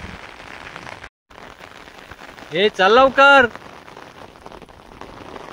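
Rain falls steadily during a walk by a river, a constant soft hiss over the whole stretch, while a voice briefly calls out in the middle.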